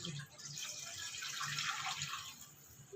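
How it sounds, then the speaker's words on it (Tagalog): Water pours steadily into a cooking pot for pancit noodles with vegetables in a home kitchen, a continuous soft splashing stream that runs throughout. "Tapos, lalagyan ko na to guys ng tubig."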